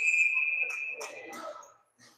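A referee's whistle in a youth hockey game blows one steady, shrill tone that lasts nearly a second, followed by arena crowd and rink noise with a voice speaking.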